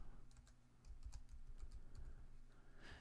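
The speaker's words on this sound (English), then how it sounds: "So I'm going to just type in studio bass." Keys on a computer keyboard are tapped in a quick, light, irregular run of clicks, faint and close, over a low steady background hum, with no talk.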